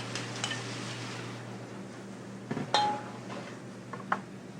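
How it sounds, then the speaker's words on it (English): Diced carrots, onions and scallions sautéing in butter in a pan, a soft steady sizzle with a few light clinks and scrapes of a utensil against the pan. "In the same butter, we'll throw in some diced carrots, onions,"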